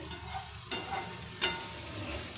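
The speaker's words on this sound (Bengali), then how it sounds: "এই দেখুন উল্টিয়ে দিচ্ছি আবার এইদিকে দেখুন সুন্দরভাবে ভাজা হয়ে গেছে" Sarputi fish for paturi fries quietly in a pan while being turned over, giving a soft steady sizzle broken by two brief scraping clatters from the flip.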